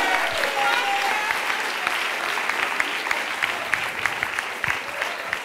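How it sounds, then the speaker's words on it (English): Sustained applause from an audience after a youth poetry performance, a loud, even wash of clapping that carries on without a break, with a voice faintly audible beneath it. "I need everybody in here to give another round of applause to the youth that just did their thing"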